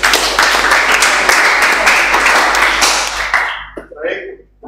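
A class of students claps their hands together in a dense, lively burst for a few seconds, then it stops abruptly, leaving a brief quiet tail.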